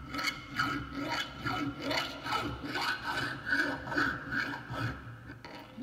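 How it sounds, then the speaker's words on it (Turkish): A round file rasps inside a hole in metal in repeated rhythmic strokes, each push a distinct scraping swell, fairly close and moderately loud, with no talking. "burada bileğime şu şekilde destek yaparak burada delik içi eğleme yapıyorum"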